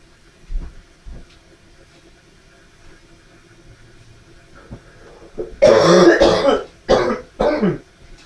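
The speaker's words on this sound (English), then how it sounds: "That's some nasty stuff that I'm coughing up out of my lungs." Harsh throat-clearing coughs close up, a couple of faint ones early, then a loud burst of hacking coughs in quick succession.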